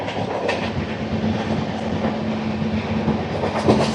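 Andhra Pradesh Superfast Express 20805 running at speed past Rayanapadu station, a steady loud rumble of rolling wagons with faint wheel clatter and a low hum, continuous throughout with no talk.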